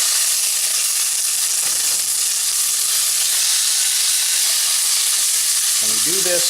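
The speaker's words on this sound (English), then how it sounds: "we're going to put a little bit of olive oil in the bottom of the pan and sear the steaks up" Steaks searing in olive oil in a very hot pan give a loud, steady sizzle and hiss that runs unbroken throughout, with a faint voice surfacing briefly near the end.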